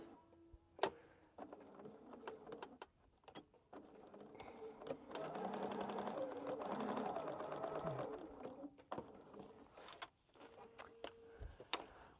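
A home sewing machine runs in short bursts during quilt piecing, whirring through stitches with a longer steady run in the middle, separated by clicks and handling noises.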